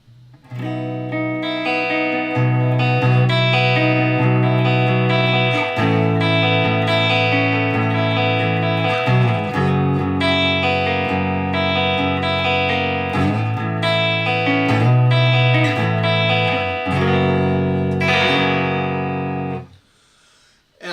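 A clean electric guitar plays sustained chords and picked notes through a Roland Blues Cube amplifier, bright and full, ringing steadily before stopping abruptly near the end.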